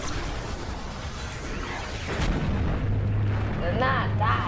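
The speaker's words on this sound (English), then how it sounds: "The camera glitches from that explosion" A heavy explosion in a Skibidi Toilet animation booms and rumbles continuously under loud, distorted sound, with a voice speaking over it.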